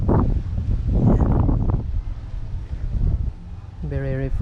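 Wind blowing outside a church entrance in Poblacion, President Carlos P. Garcia, Bohol, a steady low gusty rush buffeting the microphone, with someone speaking over it and a brief tonal sound near the end.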